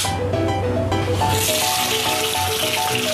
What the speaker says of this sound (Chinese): 下了油，热了锅，淡水鱼小火煎